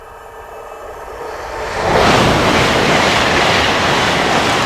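A train passes by on railway tracks, its broad rushing roar swelling after a quieter lead-in and holding steady and loud to the end, with a dense rumbling clatter.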